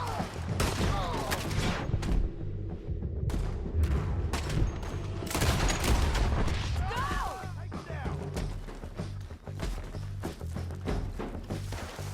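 A sustained, chaotic gunfight from Red Dead Redemption 2 with repeated shots and heavy impacts throughout, loud and close, while voices shout over the fire.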